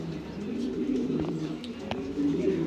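Two light-coloured pigeons coo steadily in a low, throaty rolling murmur, close and continuous, with a few faint higher chirps mixed in and no talking.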